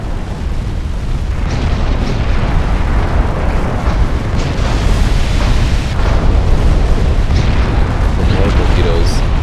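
Torpedoes slam into warships, including the Kaiser Wilhelm, in a naval battle game, producing a steady barrage of loud, deep booms and rumbling bursts that overlap without pause, with someone speaking over the din.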